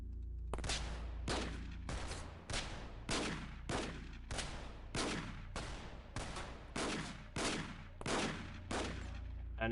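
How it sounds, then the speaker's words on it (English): A dozen sharp, evenly spaced gunshots crack loudly through a window in The Xcom Files, each shot clear and distinct with a brief decay, repeating steadily for nearly ten seconds. "We're trying to shoot through a window."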